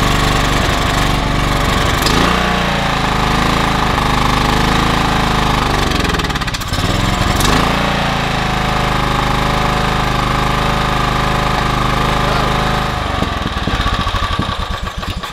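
Encore walk-behind lawn mower engine running loud and close, a steady rough drone that falters briefly near the middle and again toward the end before winding down.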